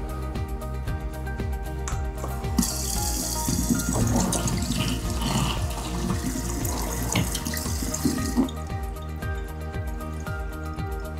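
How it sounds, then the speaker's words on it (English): A hansgrohe Metris Select kitchen faucet turns on and water runs steadily into a sink for several seconds, a bright hissing rush up close, then shuts off, leaving a low hum. "Check for leaks now with the faucet off, then again with the water running."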